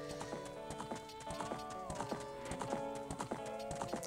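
Horse hooves clip-clopping in the video game The Legend of Zelda: Ocarina of Time, a quick steady trot of hoof clicks over a bright looping game melody, with a brief horse whinny mixed in.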